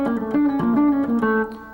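Electric guitar in a scales lesson plays a quick descending run moving from a 5-note to a 7-note pattern, about six clear, sustained notes stepping in pitch, close and fairly loud with no talking.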